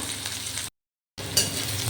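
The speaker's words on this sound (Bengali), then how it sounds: "পেঁয়াজ রসুন টমেটো সুন্দর ভাজা হয়ে গেছে" Onion, garlic and tomato fry in a pan, a close, steady sizzle with stirring scrapes, cut by a brief half-second gap of silence before the frying resumes.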